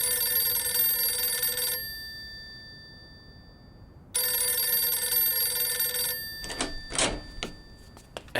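An old telephone rings in a home, two long loud bursts of bell ringing separated by a silent pause, followed by a few clattering knocks.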